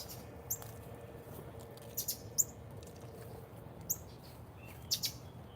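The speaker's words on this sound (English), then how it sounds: "I know you can hear the birds." Faint, high bird chirps pop up sporadically in short bursts over a quiet, steady outdoor hum.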